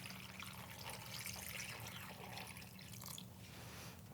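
Cold water poured into a zip bag of frozen side stripe shrimp for a quick thaw, a steady faint trickling and splashing that runs continuously with no talk.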